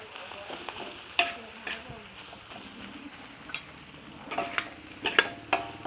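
Rice for egg fried rice is stir-fried in a pan over a soft sizzle, with sharp scraping and clanking strokes of a spatula that come in bursts, louder toward the end.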